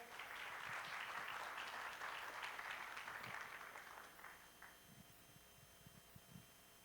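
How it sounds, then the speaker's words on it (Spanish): Audience at a conference on crisis response and change in the Americas applauds to welcome a panel moderator, a full burst of clapping that thins out and fades into scattered claps and room noise near the end. "Recibámoslo con un aplauso, por favor."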